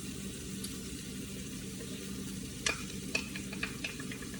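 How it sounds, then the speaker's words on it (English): Diced fresh mushrooms sizzle steadily in a hot pan for zucchini boats, a soft continuous crackle with a few sharper clicks and taps of a wooden spoon stirring near the end. "now we're going to add in our diced up mushrooms."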